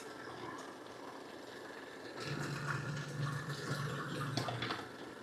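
Fresh blueberries being pureed into juice in a blender: a soft background hiss gives way partway through to a steadier, fuller whirring slosh that continues to the end, moderately quiet with no voices.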